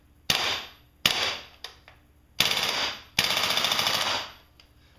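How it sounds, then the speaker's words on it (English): A WE G39C gas blowback airsoft rifle firing in loud, sharp bursts: a single shot, a short burst, a quick snap, then two longer rapid strings of rattling blowback cycles, each with a brief ringing tail. "Now here's a little bit of an example of the action of the gun."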